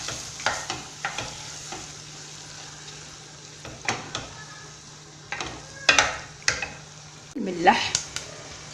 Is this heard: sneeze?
no